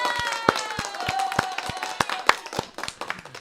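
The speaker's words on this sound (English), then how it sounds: "let me get some sound effects in here real quick." Irregular claps, some strong and some light, with a tonal hum behind them, sound like a short canned applause effect played in quickly rather than a live crowd.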